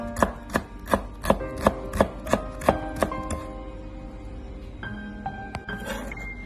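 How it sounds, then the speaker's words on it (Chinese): A knife chops peeled ginger on a cutting board into thin slices and then shreds, about ten crisp, evenly spaced strokes, followed by quieter clinks and scraping. "将生姜切成薄片。 切好之后再改刀切成丝"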